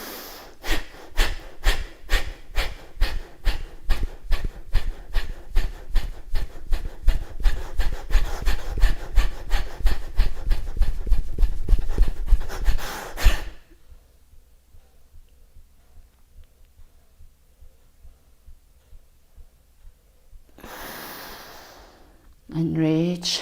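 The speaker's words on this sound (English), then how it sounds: "So let's go. Kapalabhati breath." Rapid, rhythmic Kapalabhati yoga breathing with forceful nasal exhalations, dozens of sharp puffs in a steady pulse for about thirteen seconds, then near-quiet before a voice speaks.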